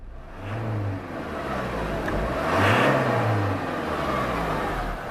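A Ford Transit 330 van's diesel engine revs up and down twice over a steady idle of about 800 RPM, the pitch rising and falling smoothly, close by with no talking.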